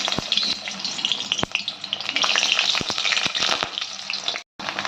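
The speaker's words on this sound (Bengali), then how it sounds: "বেগুনগুলো আমরা একটু ভালো করে ভেজে নেব।" Eggplant pieces crackle and spit in hot oil, a close, busy sizzle broken by sharp utensil taps and clicks, cutting out abruptly near the end. No one talks.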